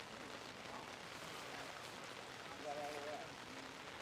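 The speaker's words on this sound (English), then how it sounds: "Gonna be pretty crazy here tonight with this rain" Rain falls steadily during a night-time outdoor wiffle ball game, a continuous soft hiss of drops on surfaces that fills the background at a fairly low level.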